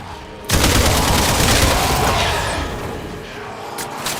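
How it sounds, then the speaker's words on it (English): Fully automatic shotgun with a 40-round magazine firing in the video game Warframe: a loud, dense, rapid burst of continuous blasts up close, tapering slightly toward the end. "A 40-round magazine on a fully automatic shotgun?"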